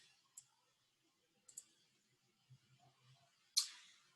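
Mouse clicks in an online editor: three or four crisp, close single clicks spread irregularly across a quiet background, the last one loudest.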